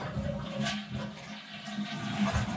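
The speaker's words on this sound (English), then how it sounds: "And then your toilet flushes." A toilet in a Global Model Earthship flushes with a steady, rushing wash of water that runs the whole time at a fairly close, even level, with no talking.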